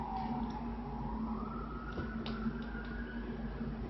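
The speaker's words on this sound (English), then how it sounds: "Hear that siren?" A faint emergency vehicle siren wails in the distance, its tone slowly rising over a steady background hum with occasional light clicks.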